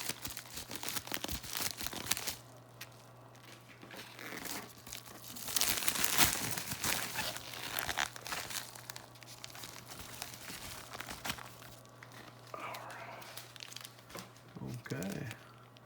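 A mailed package holding silver bars is cut and torn open, with continuous crinkling and ripping of packaging close up while a person talks intermittently over a steady low hum.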